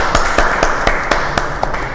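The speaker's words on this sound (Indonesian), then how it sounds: "tepuk tangan buat Kak Dama" Applause for Kak Dama, a fencer, in a studio conversation about her PON medals: scattered, uneven claps with sharp taps spaced through two seconds, moderately loud over a steady background hiss.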